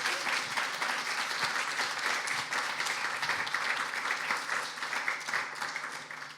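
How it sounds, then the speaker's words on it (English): An audience at a live poetry show applauds a performer with steady, dense clapping that holds for several seconds before starting to taper near the end. "Let's have another round of applause for Millie May."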